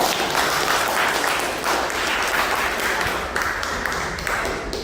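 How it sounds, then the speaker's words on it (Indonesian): Classroom applause for classmates during a lesson, a steady burst of many hands clapping together for about five seconds, close and full, without talk over it. "Kita beri aplaus dulu untuk teman-teman"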